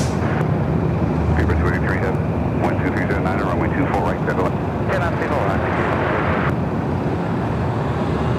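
A Delta Airbus A350-900 jet roaring steadily at LAX airport, a loud continuous engine rumble filling the whole stretch, with people talking faintly over it.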